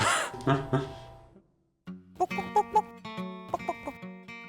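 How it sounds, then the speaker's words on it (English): Chickens (chooks) kept at an Australian share house cluck close by, a burst of clucking first, a brief silence, then a run of short, sharp clucks and calls. "I spend a lot of time just wandering around looking at the chooks."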